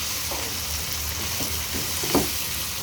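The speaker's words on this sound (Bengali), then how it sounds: "হলুদ দিয়ে ভালো করে একটু কষিয়ে নেব" Spices with turmeric and chili sizzling steadily in hot oil in a pan, with occasional stirring scrapes, alone and close.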